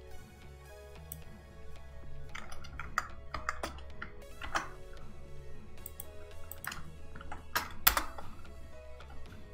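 Computer keyboard typing while entering a password at a terminal: irregular soft key taps and a few sharper clacks spread across the stretch, fairly quiet, with no talking.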